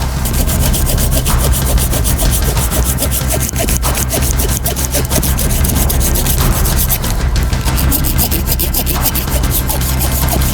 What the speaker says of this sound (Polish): do tego będę potrzebował piłę silki